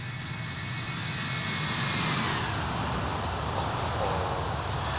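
Airbus A330 jet engines in X-Plane 11 with the FT Sim sound pack give a steady, loud, broadband roar with a low rumbling base and a faint whine, unbroken and without speech.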